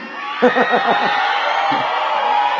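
A large crowd at a Duterte campaign rally in the Philippines roars in a steady wash of shouting and cheering, with a brief burst of nearby voices rising above it.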